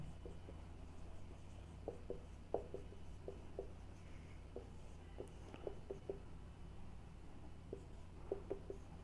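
Pen or chalk strokes during a math lecture on the binomial theorem come as short, soft scratchy taps in irregular bursts. They sound close but faint over a steady low hum, with no talk.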